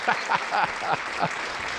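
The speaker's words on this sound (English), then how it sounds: "And the crowd goes wild." A crowd at a live get-out-of-debt event applauds and cheers in a steady background wash, while a voice talks over it in short bursts.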